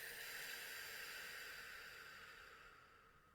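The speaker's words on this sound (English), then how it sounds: "and breathe out." A long, steady deep exhale during a guided EFT breathing exercise, a soft breathy hiss that gradually fades over a few seconds, close and alone with no talking.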